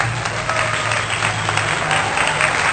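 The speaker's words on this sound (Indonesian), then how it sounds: "beri tepuk tangan dulu untuk kelompok 1" Classroom applause for group 1 during a physics microteaching session, a steady burst of clapping from a small group, close and continuous, with a faint hum underneath.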